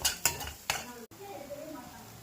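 Spoon mashing boiled eggs with salt in a bowl for egg momos; a few sharp scrapes and knocks against the bowl early on, then softer quiet stirring.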